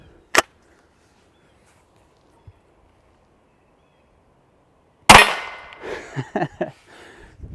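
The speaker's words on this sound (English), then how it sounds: "The report from hitting the backstop or the steel is louder than the report from the firearm." A Baikal MP-18 shotgun round strikes a steel target: a faint sharp shot near the start, then after a long quiet gap a loud ringing clang with rattling, clattering aftermath that trails off over several seconds.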